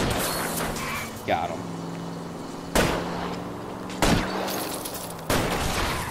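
Gunfire aimed at a fleeing car's tire during a car chase in L.A. Noire: several loud, sharp shots spaced a second or so apart over a steady engine drone, with voices speaking between them.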